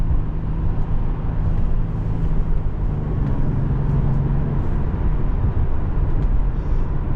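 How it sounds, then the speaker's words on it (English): A 2005 Nissan 350Z Roadster with a manual gearbox drives under steady engine load, a loud, continuous low rumble with road and wind noise running unbroken throughout. "There's a good example of throttle response."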